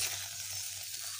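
Eggplant and mutton gravy sautéing over medium-low heat with ground red chili paste, giving a steady, close, even sizzle that holds throughout without any voices.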